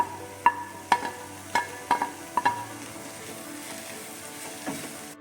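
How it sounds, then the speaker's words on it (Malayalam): Finely chopped tomato and onion sauté in a pan, giving a soft continuous sizzle broken by a quick series of five or six sharp spoon taps and stirring clatters against the pan, with no speech. "ഒരു ടൊമാറ്റോ ചെറുതായിട്ട് അരിഞ്ഞത് അതും ചേർത്ത് നമുക്ക് നന്നായിട്ടൊന്ന് വഴറ്റാം"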